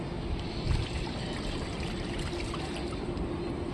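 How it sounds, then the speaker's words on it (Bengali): Water pours steadily into a tub to fill it for repotting a lotus tuber, a soft continuous splashing trickle that stays fairly quiet and even throughout. "পুরো একবারে গামলি কানা কানা ভর্তি করে দেবে জল দিয়ে।"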